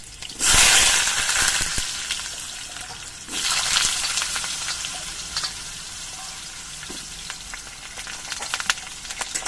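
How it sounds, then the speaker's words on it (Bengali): Potatoes frying in hot oil with slit green chillies, a loud burst of sizzling as they hit the pan, a second surge a few seconds later, then a steady, softer crackle with light stirring. "এবার আলুগুলো আমি কিছুক্ষণ ভেজে নেব"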